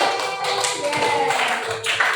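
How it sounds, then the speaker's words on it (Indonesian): A group claps hands in applause in a classroom after a salt-crystal lesson, the claps close and somewhat uneven over about two seconds, with faint voices underneath. "tepuk tangan buat kita semuanya"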